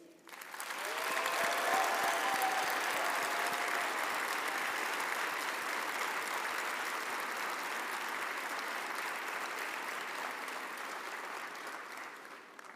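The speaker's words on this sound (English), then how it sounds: "I would now like to ask our graduates to applaud their families, friends, and spouses for their support over the years." Graduates at a university autumn graduation ceremony applaud their families, friends and spouses, a broad, sustained wash of clapping from a large hall crowd that swells quickly and holds steady for many seconds before easing off.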